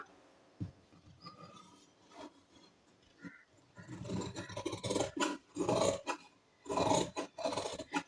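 Scissors cut through blouse lining fabric with a soft, close rasp, starting with a few isolated snips and building into a run of steady rhythmic cutting strokes, quiet and without voices.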